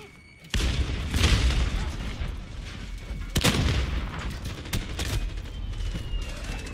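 A cruise missile strike in the Warzone video game sets off a loud boom followed by scattered blasts and crackling gunfire across a noisy battlefield.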